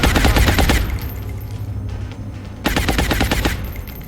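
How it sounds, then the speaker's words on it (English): Sustained automatic suppressing fire aimed at a cyber disc in XCOM Long War: two loud, rapid bursts of shots, the first stretching nearly a second and the second, after a quieter gap, running about a second. "Suppress the cyber disc. Suppressing fire."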